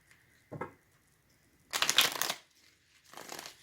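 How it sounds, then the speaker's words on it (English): Soft papery riffles and slides of tarot cards being shuffled come in three short bursts, close and quiet, with near silence between them. "Let's do some shuffling."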